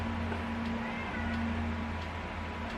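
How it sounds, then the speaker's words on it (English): A cat in another room lets out a loud, drawn-out meow, muffled by distance over a steady electrical hum in the room. "My cat is screaming in the other room because she likes attention"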